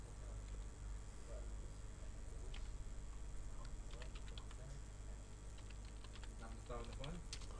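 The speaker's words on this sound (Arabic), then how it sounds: "هكتب الرقم بتاعي وهكتب الباسورد بتاعي" Keys clack on a computer keyboard as a phone number and password are typed for a Facebook login, with scattered bursts of quick taps over steady background hum and some talking.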